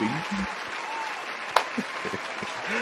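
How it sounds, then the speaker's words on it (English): Crowd clapping runs continuously underneath, with a voice speaking over it and a few cheers. "Let's give you the proper applause here."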